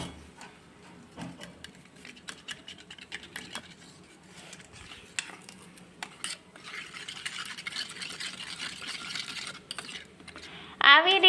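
A spoon scrapes and clinks steadily in a bowl, stirring spices with water into a wet gravy mixture for Kathiawadi eggplant oro, with a brief sharper rattle at the very end.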